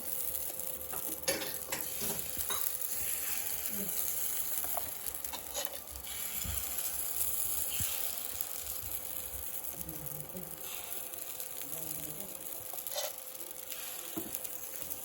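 Batter is spooned onto an oiled hot pan, giving a soft, continuous sizzle broken by light spoon scrapes and taps, fairly quiet and close.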